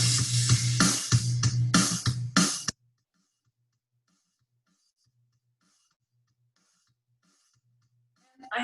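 Computer-generated drum rhythm: a quick run of sharp, closely spaced hits plays loudly for under three seconds, then stops into near silence.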